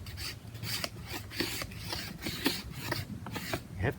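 Scraping tool rasping wood off the back of a handmade wooden bow, repeated close strokes at an even rhythm, each a short dry scratch followed by a brief pause.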